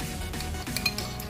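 A utensil beats three eggs with pepper and salt in a bowl, making quick close clinks and taps against the bowl in a brief, busy burst.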